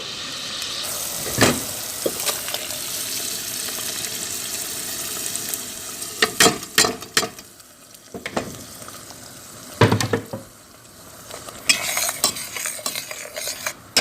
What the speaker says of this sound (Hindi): अब हम ब्लेंड किया हुआ सारा मसाला इसी ऑयल में डाल देंगे जिसमें हमने प्याज फ्राई किए थे।